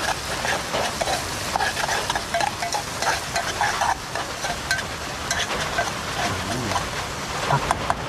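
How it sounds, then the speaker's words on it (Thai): Side ingredients going into a fish curry simmering in a pot at a forest camp in heavy rain, with soft stirring and bubbling, scattered small clinks and someone talking throughout. "แกงปลานะครับผมใส่เครื่องเคียงลงไปเลยนะครับ"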